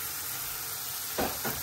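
Spice masala for kidney bean curry frying in a pan with a steady soft sizzle, broken near the end by two short bursts of stirring.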